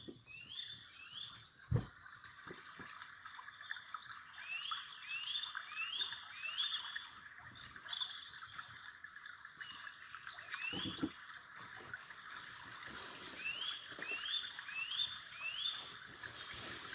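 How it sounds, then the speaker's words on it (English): A brook with frogs croaking in a repeated series of short calls over a steady wash of flowing water, fairly faint and without voices. "I used to enjoy walking by this brook"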